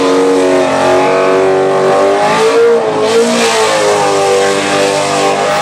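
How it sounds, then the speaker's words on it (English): Ford Mustang Hoonicorn race car engine revving hard and loud at close range, a continuous high-pitched roar with brief dips in pitch mid-way, heard alone with no voices. "something in the shape of a Ford Mustang moving around like that and spinning all four tires"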